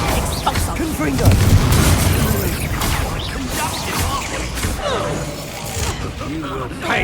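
Confringo blasting-curse explosions in the Hogwarts Legacy video game: heavy booms and crashing impacts roll continuously through the whole stretch, loud and dense, with bursts and cracks layered over a rumbling low end.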